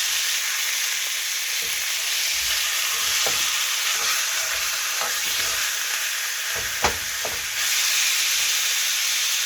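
A pork chop sizzles in a large pan after being flipped, with a steady bright frying hiss throughout, a few soft clicks and pops of spatter, and no voices.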